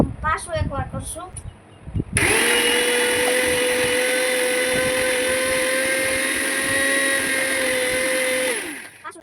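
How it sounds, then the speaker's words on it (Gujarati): A mixer grinder whirs at high speed for about seven seconds, blending mint and coriander with water for pani puri. It starts abruptly after brief speech, stays loud and steady, then spins down. "આ બધું હવે મિક્સરમાં થઈ ગયું છે."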